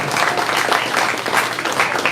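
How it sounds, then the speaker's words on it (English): A crowd gathered for the RFC 3 fighters' weigh-in at Walk-Ons Sports Bar and Bistro in Lake Charles claps and cheers in a steady, dense wash of applause with no clear talk over it. "How about a big round of applause for Walk-Ons Sports Bar and Bistro?"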